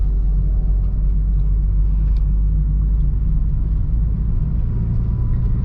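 A manual car driven in third gear gives off a steady, loud, low engine rumble with constant road drone, unbroken and close, with no talk over it.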